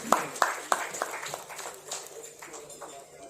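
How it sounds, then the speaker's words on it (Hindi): Scattered hand claps from an audience at a ceremony honouring guests at Sharda University, a few sharp claps at first that thin into sparse clapping under a speaking voice. "जोरदार तालियां"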